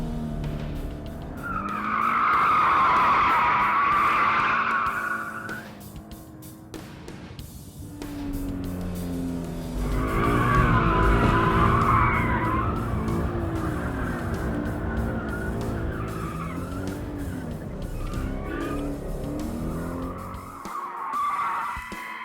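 A Scion FR-S's tires squeal loudly in long sustained screeches as it drifts through turns on a race track, with the engine roaring underneath.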